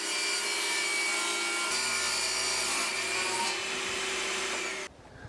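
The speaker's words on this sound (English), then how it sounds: "now I can trim off the little excess I've got left at the top on the table saw" A table saw trims excess wood off the top edge of a workpiece with a loud, continuous whine and cutting rasp, then stops abruptly near the end, leaving quieter shop noise.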